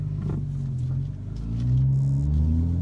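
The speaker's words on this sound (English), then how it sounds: "now we're gonna go for a drive in the F30 335i" Engine of a modified BMW F30 335i while driving, a steady low rumble with harmonic drone that rises in pitch as the car accelerates, heard alone with no talk.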